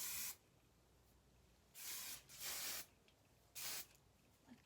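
Hairspray sprayed onto styled hair in three bursts of hissing aerosol, one short, then two longer, separated by quiet gaps, close and fairly soft.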